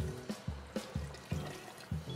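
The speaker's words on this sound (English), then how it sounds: "We add the rest of the hot water." Hot water poured into a pot of Persian okra stew (khoresh bamiyeh), making soft gurgling splashes in regular pulses about every half second, fairly quiet and with no talking.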